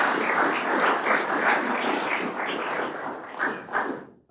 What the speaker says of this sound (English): So I think a round of applause as Karishma comes forward.